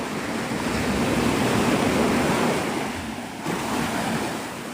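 Ocean surf washes in at Navarre Beach, Florida, a loud steady roar of breaking waves with wind buffeting the microphone and a brief dip near the end.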